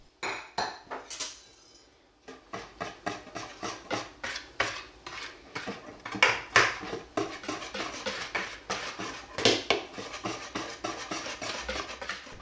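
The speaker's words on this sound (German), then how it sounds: "werden wir von Hand das Mehl hineinrühren" Sifted flour being stirred into dough by hand in a bowl, heard as steady, close scraping and clinking of a spoon against the bowl in quick repeated strokes, with a short pause early on and no talking.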